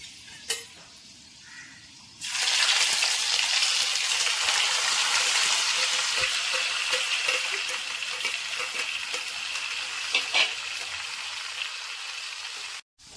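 Ginger, garlic and green chillies hit hot oil for sardine pickle, a sudden loud sizzle that settles into steady frying with occasional clinks of a stirring spoon against the pan.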